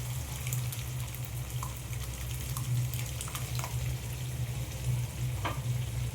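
Boiled dal is poured into a pan of sautéed vegetables, giving a steady wet sizzle and bubbling with faint stirring scrapes and soft splashes, close and continuous.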